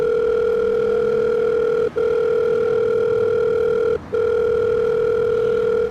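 A steady electronic telephone tone plays while a call is being placed, holding unbroken for about two seconds at a time with two brief gaps, loud and close, with no voices.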